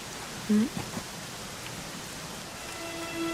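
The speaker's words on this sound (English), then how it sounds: "it was raining like this the last time I ever saw her" Steady rain falls as a broad, even hiss throughout, with a brief soft thump near the start and faint tonal sounds in the background.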